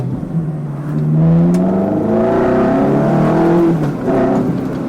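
A salvage Ferrari engine running close up while driving, its harmonic drone sliding down in pitch through downshifts and rising again, loud and steady without any talk.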